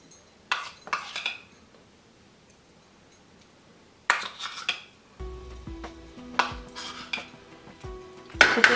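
Chicken mixed with green chutney and spices in a bowl for keto butter chicken: intermittent bursts of utensil scraping and clinking against the bowl, separated by quiet gaps, with a low hum entering later, no talking.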